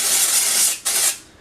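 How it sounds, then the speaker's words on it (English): A dry shampoo aerosol bottle sprays in a loud, close hiss that cuts out briefly and then spurts again before trailing off, suggesting a faulty nozzle. "I think something's wrong with this bottle because it like spurts."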